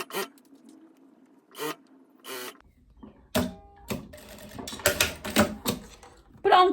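A sewing machine stitches a strap seam on a long loose dress, in short scattered bursts of mechanical rasping and clicking with gaps between, close by, with a voice speaking in between.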